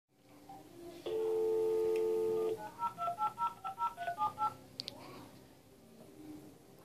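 Telephone dialing for a prank call: a steady tone for about a second and a half, then a quick run of about a dozen keypad beeps, quiet and close.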